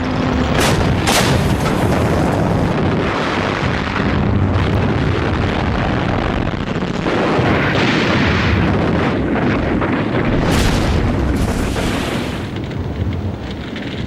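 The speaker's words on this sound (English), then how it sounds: "Operation Crusader, as it was called, started with a lengthy armoured dogfight." Tank battle gunfire from the North African campaign of Operation Crusader, a loud, continuous barrage of booms, bursts and blasts with several sharp cracks, dense and close throughout.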